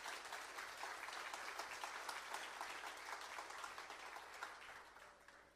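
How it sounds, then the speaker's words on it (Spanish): A church congregation gives a strong round of applause to the Lord, a continuous, fairly distant wash of many hands clapping with a few faint cheers, tapering slightly near the end. "Dale ese fuerte aplauso al Señor."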